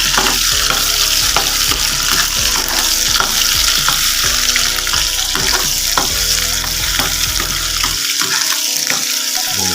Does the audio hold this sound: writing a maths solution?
no